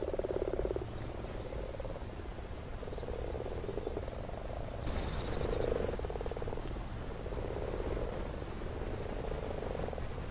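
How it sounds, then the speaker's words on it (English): A dense chorus of frogs croaking steadily outdoors, layered with insect trills, continuous and moderately distant. "The chorus from frogs is beautiful"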